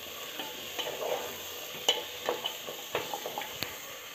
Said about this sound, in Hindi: इसमें मैं रख दूंगी अदरक लहसुन का पेस्ट। और 2 से 3 मिनट में इसको फ्राई कर लूँगी।